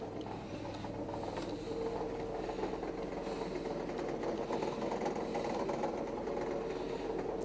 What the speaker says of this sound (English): Generator's running.